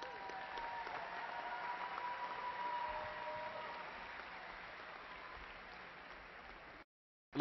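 Sustained applause from a large audience at a university commencement ceremony, steady and fairly loud, continuing for several seconds before cutting off abruptly near the end.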